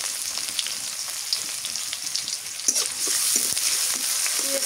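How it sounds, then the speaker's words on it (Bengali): Chopped onions fry in oil, with dry red chilies and bay leaves, on a clay stove outdoors in a village. A continuous close sizzle carries occasional sharper pops and crackles and grows slightly louder partway through, with no talking. "পেঁয়াজটা একটু লাল লাল করে ভাজি"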